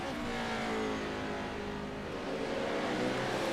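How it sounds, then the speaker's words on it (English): Race car engines roar continuously at Watkins Glen during an IORA Pro 4 Series race, a dense, loud, steady motor drone with shifting pitch as cars rev and pass, no voices over it. "You can hear the roar of every other engine"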